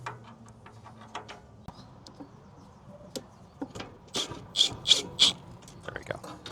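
A hand ratchet tightens bolts on a Sprinter van's rear basket, giving a quick run of close clicking strokes near the end after quieter shuffling and handling noises.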